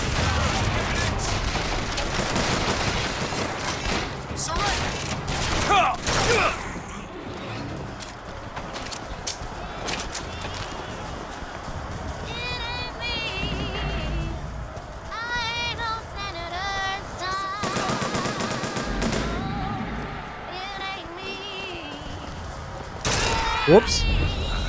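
Machine gun fire in Bioshock Infinite: repeated bursts of rapid shots and booms over game background noise, with a voice talking throughout.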